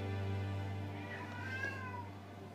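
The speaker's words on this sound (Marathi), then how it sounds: "CAT कॅट म्हणजे मांजर." A single cat gives a clear, close meow that rises and falls over about a second, heard over a steady low hum.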